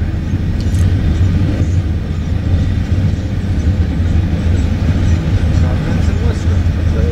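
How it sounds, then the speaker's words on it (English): A Providence and Worcester freight train made up largely of gondola cars rolls past close by in winter, a loud, steady rumble of wheels and rail noise that fills the whole stretch without a break. "Well, this is probably the P&W train."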